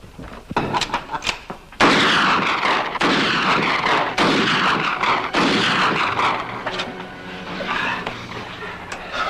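Gunfire in a western film: loud sharp shots crack out in a rapid series, some close and booming, repeated through the scene with no talk over them.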